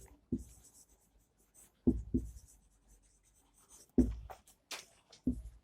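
A definition is written on a board during a physics lesson on resistors, heard as several short, quiet scratching strokes separated by pauses, with no talking.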